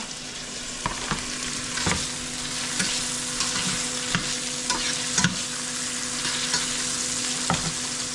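Pork and garlic fry steadily in a pan, giving a continuous close sizzle broken by occasional sharp clicks and scrapes of stirring, with no talking.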